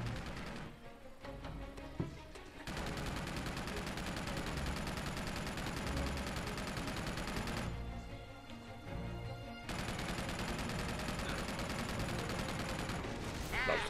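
Grenades and heavy gunfire in Uncharted 2, an action shooter played on crushing difficulty: a long, dense barrage of cracking shots and crashing blasts, broken briefly by quieter pauses, with some voices faintly mixed in.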